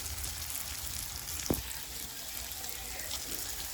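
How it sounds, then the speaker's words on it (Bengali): A curry of elephant foot yam, kohlrabi and fish fries in oil in a pan with a steady, close sizzle, broken once by a brief knock or stir partway through. "অলমোস্ট হয়ে গেছে ভাজা, কেন কি দেখুন তেল ছেড়ে দিয়েছে।"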